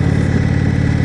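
Engine of a 2018 Indian Chieftain Limited motorcycle running on the road, a loud steady low throb with an even pulsing rumble and wind rush over it, no voices.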